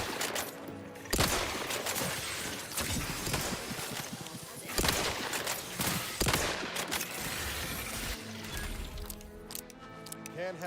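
Bursts of gunfire aimed at the player in the video game Outer Worlds 2, several loud clustered volleys with short gaps between them, fading into quieter rattling toward the end.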